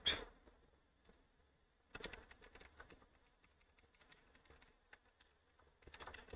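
Keystrokes on a computer keyboard during a coding session, quiet and close, arriving in irregular bursts of clicks with short pauses between them.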